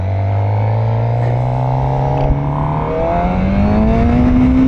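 A 2024 Suzuki GSX-R750 sport bike pulling away, its engine note rising steadily through the revs as it accelerates, loud and close with heavy wind rush.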